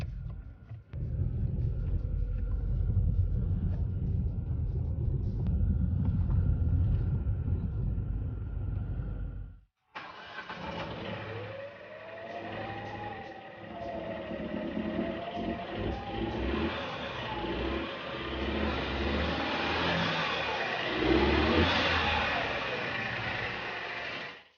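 A Chevrolet Cruze engine runs rough under load while the car is driven a short distance, a loud, uneven low rumble that shifts to a busier, rattling drone with wavering pitch partway through.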